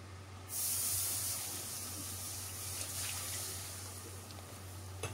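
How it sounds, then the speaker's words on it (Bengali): Two cups of liquid milk hit flour frying in butter in a pan for a chicken half moon pie filling, and a sudden loud hiss and spray starts, then eases into a steady sizzle. "আটাটা বাটারের সাথে ভাজা হয়ে গেলে এবার আমি এর মধ্যে 2 কাপ পরিমাণ লিকুইড দুধ দিয়ে দিব।"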